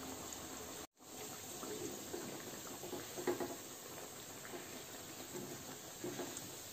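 Otak-otak fish cakes frying in oil, a soft continuous sizzle and hiss with light crackling pops, faint and close, after a brief cutout near the start.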